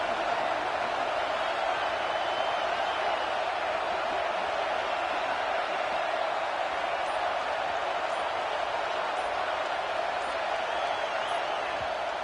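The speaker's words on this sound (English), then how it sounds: "And how nice is it to have the home crowd going absolutely bananas?" A home stadium crowd roars without letup in EA Sports College Football 26, a dense, loud, steady wash of cheering that holds for the whole stretch with no break.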